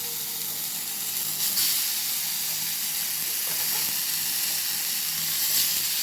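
Beef sizzling as it roasts in AMC cookware on a stove, a steady, fairly quiet hiss and crackle of frying with a couple of brief bursts of steam, no talking.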